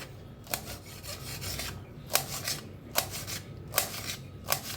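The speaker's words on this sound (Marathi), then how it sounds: "आता मिरच्या कापून घेऊया" A knife cuts green chillies on a board for corn pakoras, giving a series of short, scraping strokes at an irregular pace, close but soft, with no speech.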